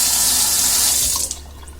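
A kitchen faucet with a lever handle runs water steadily into the sink, a loud broadband hiss that fades near the end as the flow is shut off, with no talking.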